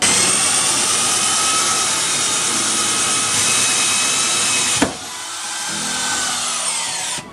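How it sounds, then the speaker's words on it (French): A 28 mm hole saw bores through wood for a blue tit nest box, a loud steady whining drill roar that cuts off abruptly partway through, then spins down and restarts more quietly. "Donc là on va utiliser une scie cloche donc, avec un diamètre de 28."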